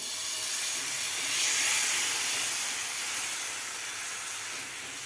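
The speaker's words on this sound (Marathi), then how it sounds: "पॅन आपल्याला कडकडीत गरम करायचं आहे आता यामध्ये आपल्याला हे पीठ घालायचं आहे भिजवून घेतलेलं" Thin soaked gram-flour batter poured onto a very hot oiled pan gives a broad, steady sizzle that swells slightly and then settles, close and continuous with no talking.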